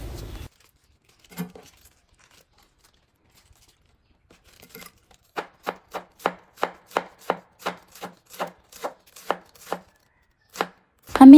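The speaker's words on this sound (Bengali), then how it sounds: "মোট 4 টুকরা করে আমি পাতাকপি ঝুরি ঝুরি করে কেটে নেব" A knife finely shreds cabbage on a board, starting with a few scattered cuts and then settling into a steady run of about fifteen crisp, evenly spaced chops, close and clear with no talk.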